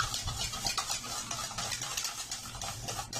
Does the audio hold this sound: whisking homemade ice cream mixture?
yes